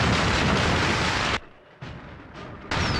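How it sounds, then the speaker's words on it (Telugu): Firecrackers and bombs burst in a Telugu action film scene: a loud, dense roar of blasts cuts off, then returns in shorter rumbling bursts before surging again at full force. "ఇక్కడ రకరకాల టపాకాయలు బాంబులు పేలుతున్న చప్పుడు వింటున్నావా?"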